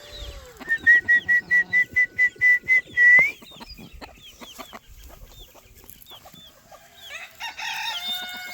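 A rooster crows repeatedly in a quick rhythmic series of loud, close calls, joined by a tiny black chicken and other fowl, with softer clucks and chirps following in a predator-proof backyard pen.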